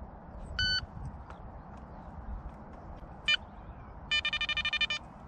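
A Quest XPointer Max pinpointer in sound mode gives short electronic beeps: a single tone, then another, then a fast train of about eight pulses, all clear over quiet outdoor background.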